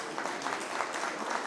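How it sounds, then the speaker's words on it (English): Applause for an award winner walking on stage at a broadcasting awards ceremony, a steady wash of many hands clapping at moderate level throughout, with no speech over it. "please round of applause for Madam P.S."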